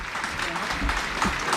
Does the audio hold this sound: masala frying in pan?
no